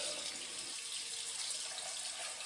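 Tap water runs steadily into a bathroom sink while a razor is rinsed during a shave, giving a close, even rush of water with no talking.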